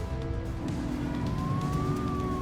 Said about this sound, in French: on peut changer la sirène